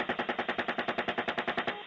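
Helicopter-mounted cannon firing in combat footage: a rapid, steady burst of about fifteen heavy booming rounds in under two seconds, loud and close with no talk.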